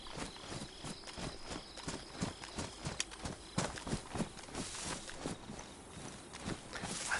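Footsteps in DayZ on the Livonia map: a steady, regular run of thudding steps, fairly quiet and close, repeating evenly without pause.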